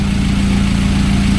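A 17-year-old Kawasaki motorcycle engine idles close by with a steady, even low hum and no variation or voices over it.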